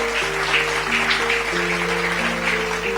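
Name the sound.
congregation applauding and cheering for Jesus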